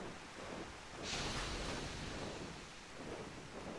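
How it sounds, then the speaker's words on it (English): Steady hissing rumble of steam venting from goblin machinery in the Final Fantasy XIV video game, a continuous broadband wash that swells slightly partway through, with no talking. "It's just the sound of the gob machines in there, I think. Giving off steam."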